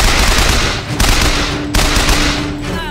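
Gunfire in Bioshock Infinite, a dense, continuous barrage of shots with loud bursts near the start, around one second and again near one and three quarter seconds, layered over constant battle noise.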